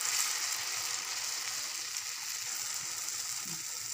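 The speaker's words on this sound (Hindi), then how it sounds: "अब ऐसा करके मैं ऑयल में डालूंगी" Moong dal shamia fritters sizzle steadily in hot oil, a dense continuous frying hiss with no voices, close and even throughout.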